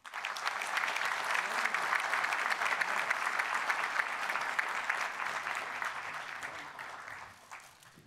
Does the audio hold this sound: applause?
yes